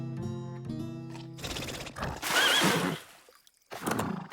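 A cartoon horse gives a loud whinnying neigh in a French animated comedy, following a tonal musical cue and a burst of clattering, with a short noisy flourish afterward.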